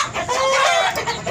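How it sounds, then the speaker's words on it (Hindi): An Aseel fighting rooster clucks and calls loudly up close in a short, warbling burst. "लड़ाकू मुर्गा।"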